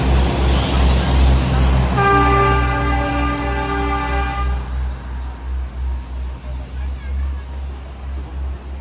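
The Matheran toy train sounds one long, steady horn blast lasting a few seconds. It is heard over a continuous rumble of the moving train, with faint voices in the background.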